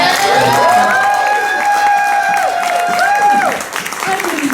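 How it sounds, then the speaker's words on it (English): An audience at a live drag spoken-word show applauds and cheers, with bright whooping cries rising over steady clapping that fades toward the end. "I didn't mean to make you applaud again."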